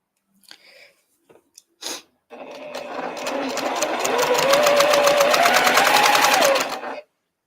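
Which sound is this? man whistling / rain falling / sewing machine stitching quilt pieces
sewing machine stitching quilt pieces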